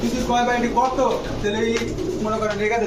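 Pigeons of breeds such as Pakistani Teddy, Rampuri, Lahori and racer cooing in soft, repeated throaty phrases close by, with a voice talking over them.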